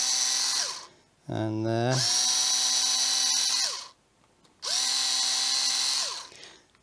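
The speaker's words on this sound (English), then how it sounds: "So let's drill this out." A power drill bores through a part in two long, loud, high-pitched bursts with a short pause between them, and a brief spoken remark can be heard during the gap.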